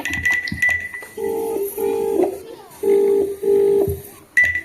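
A telephone dials out, with a series of evenly spaced electronic tones sounding in pairs under brief bits of speech at the start and end.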